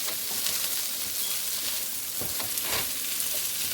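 Onions and vegetables frying in a pan for a chickpea scramble breakfast, a steady close crackling sizzle with a few louder stirring scrapes near the middle and end, no talking.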